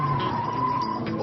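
Tires skid in a continuous broadband hiss with a steady squeal tone as a car spins a donut during driver training on a practice course, loud and unbroken for the whole moment with no talk.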